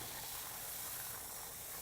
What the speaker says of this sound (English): Now that it's boiling, I'm just gonna add my couscous.